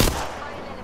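A single loud, close gunshot in the video game Apex Legends, a sharp crack followed by a short decaying echo.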